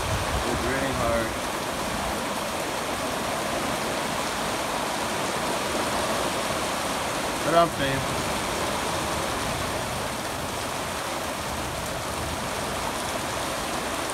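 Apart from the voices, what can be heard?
heavy rain falling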